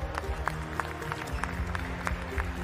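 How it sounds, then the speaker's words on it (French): An audience at a school competition final applauds to welcome a contestant: sparse, rhythmic claps ring out over a low, steady background hum, moderately faint and spaced. "sous vos applaudissements"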